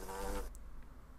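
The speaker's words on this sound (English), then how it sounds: "But I did find a wasp, and they're kind of close." A wasp in a video game gives a quiet, close buzzing drone that cuts off after about half a second, followed by faint scattered sounds.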